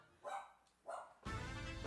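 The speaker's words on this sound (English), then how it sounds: "Doggy." A dog in the video game Fire Emblem: Path of Radiance gives two short, distinct barks a moment apart. Louder, denser game sound follows right after.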